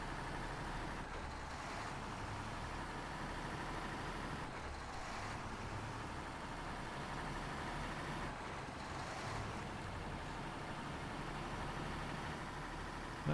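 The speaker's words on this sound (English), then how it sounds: "Not sure I care too much for this one's engine noise, or the gear shift noises for sure." A truck engine in the SnowRunner off-road driving game drones steadily and loudly throughout, with a low rumble and slight surges in pitch but no breaks.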